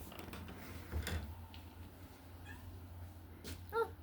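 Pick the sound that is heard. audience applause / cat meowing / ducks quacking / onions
cat meowing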